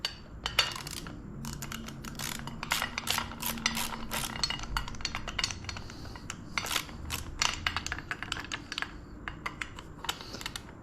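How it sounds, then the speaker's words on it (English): A ratchet tightening a bolt on a 2020 Harley Lowrider S tail light, rapid close clicking bursts in an irregular rhythm, quiet and without talk. "let's get a ratchet on here"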